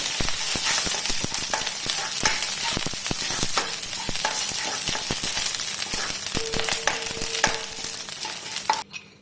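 Kerala moru curry is stirred in a hot pan, a busy sizzle with frequent sharp spoon clicks and scrapes against the pan that stops abruptly at the end.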